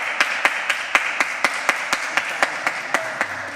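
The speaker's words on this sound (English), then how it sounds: "I'm going to give you a round of applause" A concert audience in Christ Church, Bray, applauding after a candlelit classical performance: a steady wash of many hands clapping close, with a few sharper, evenly spaced claps standing out above it.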